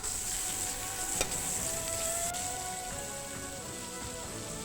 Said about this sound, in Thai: พอน้ำมันร้อนแล้วก็ใส่หมูลงไป